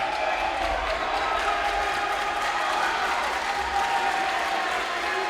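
A high school boys basketball crowd at a CR versus Kingsway game applauds and cheers loudly after a defensive chase-down, a continuous roar of clapping and shouting with a commentator speaking over it.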